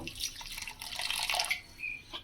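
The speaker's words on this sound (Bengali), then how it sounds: "এবারে এতে অল্প জল দেব" A little water is poured into a mixing bowl of ground poppy seeds and green chilli for Bengali posto bata, a soft close splashing and trickling pour that lasts about two seconds.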